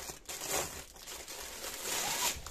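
A zippered plastic pouch of soft, flexible material being pulled open, giving a steady crinkly rustle with a couple of louder crackling swells, close and alone.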